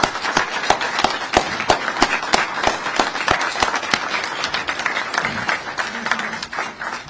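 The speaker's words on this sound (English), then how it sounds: "let's give them a hand right now" Audience applause at a civic address announcing a new city care department, steady dense clapping across the room with a few louder individual claps, sustained throughout and tapering slightly near the end.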